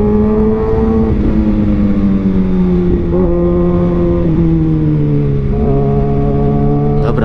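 A 2021 Kawasaki Ninja ZX-6R engine revs hard and close, its pitch climbing and dropping through several loud sweeps with brief breaks between them as the throttle is worked, while the exhaust gives out sharp crackling pops.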